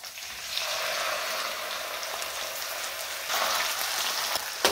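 Garlic and potatoes fry in a pan with a steady, close, crackling sizzle that sounds almost like rain. The sizzle surges briefly near the end and has no talk over it.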